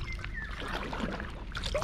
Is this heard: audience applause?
no